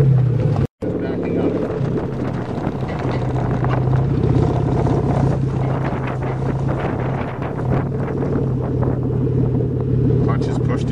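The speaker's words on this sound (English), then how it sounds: "Rev the engine, slowly release. And I'm riding the clutch now." A Toyota manual car's engine hums low and steady while backing up, partly masked by wind buffeting the microphone, with a brief dropout near the start.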